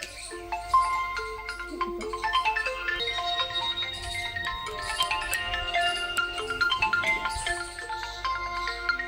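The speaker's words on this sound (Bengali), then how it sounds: "তোমার ফোন আইছে" A phone ringtone plays a continuous electronic melody of short tones for about nine seconds, moderately loud and alone.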